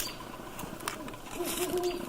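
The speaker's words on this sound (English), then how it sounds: "you can also listen at dusk and late evening for the telltale deep hooting call." Great horned owl giving its deep hooting call at dusk, a soft, low, fairly distant hoot set against faint background noise.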